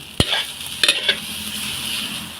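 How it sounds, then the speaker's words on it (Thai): Fried rice is stir-fried in a pan under a steady sizzle, with a sharp spatula clank at the start and a few quicker scraping knocks against the pan. "ข้าวผัดต้องผัดนานๆ"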